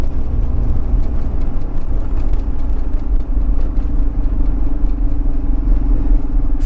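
A lorry drives along a narrow, winding country road near Ross-on-Wye, its engine a steady, loud droning rumble heard from inside the cab with no talking.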